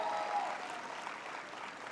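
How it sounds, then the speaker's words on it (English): A graduation audience applauds in a large hall, with dense, even clapping sustained at a moderate level throughout, no voices standing out. "Please put a huge round of applause to each and every one of you"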